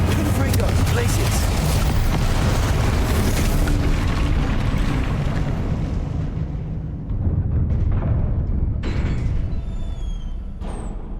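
The Confringo explosive spell in Hogwarts Legacy: a loud, booming blast rumbling through a dense fight, then tailing off into a thinner decay with a few sharp impacts.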